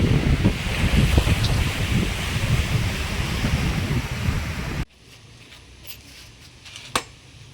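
Ocean surf and wind at a river delta point where the sea meets a river around a small island, a loud steady wash of breaking waves with buffeting wind for most of the stretch, then dropping abruptly to a quieter low rumble with a brief sharp knock.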